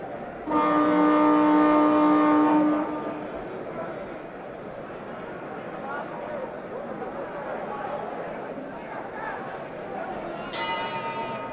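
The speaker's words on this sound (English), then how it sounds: "The bell for round 8." A boxing ring bell clangs loud and ringing for about two seconds to signal round 8 at the 1970 Muhammad Ali vs Oscar Bonavena fight, then decays under a commentator and crowd noise before sounding briefly again.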